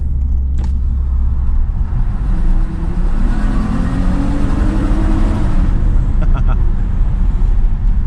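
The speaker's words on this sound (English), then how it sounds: "this V6 in this IS sounds really good" A Lexus IS 350 F Sport's V6 engine hums and rumbles steadily while driving through a tunnel, with a brief swell of revving midway and road noise underneath.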